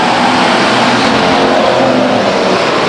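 Race cars at Stockton 99 Speedway roar as they accelerate at the green flag start, a loud, dense, continuous engine din from the full field with no voices.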